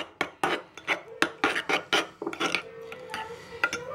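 Chicken mince mixed with an egg is stirred briskly in a bowl, giving a quick run of close, rhythmic wet scrapes and clinks against the sides, with no talking.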